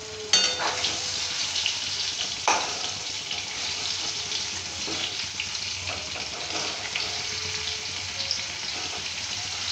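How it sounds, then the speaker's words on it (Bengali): Papaya pieces frying in oil for a meat curry, a steady broadband sizzle running throughout with a few sharp clicks near the start and around the two-second mark, no voices. "পেঁপেটা একটু ভেজে নিতে হবে লাল লাল করে।"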